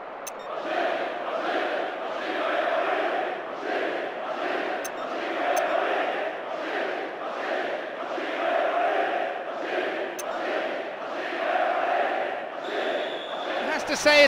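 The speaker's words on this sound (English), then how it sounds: "The crowd giving both manager and players some serious stick." A stadium crowd in the video game Pro Evolution Soccer 2010 chants and jeers in a steady rhythmic swell, a dense roar that rises and falls in waves across the whole stretch, with no clear voices standing out.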